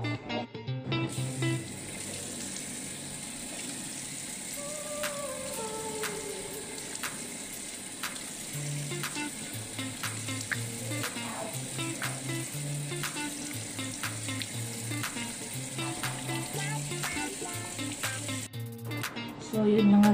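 Water runs and splashes steadily as a face is rinsed clean after a skin remedy. The soft, continuous hiss carries on for the whole stretch with small splashes throughout.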